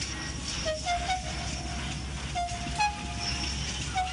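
A toy train puffs along at close range with a soft rumbling chug, broken by short whistle-like toots, fairly quiet overall.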